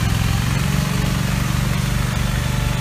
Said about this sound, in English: Put it all on these hand tractor things.